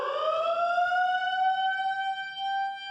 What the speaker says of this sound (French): Cette sirène annonce l'heure des repas.